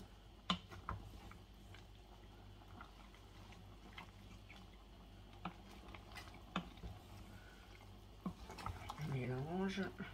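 A spoon stirring chicken blanquette with carrots and mushrooms in a pot, soft scrapes and clinks scattered through a quiet kitchen hum, with a voice speaking briefly near the end.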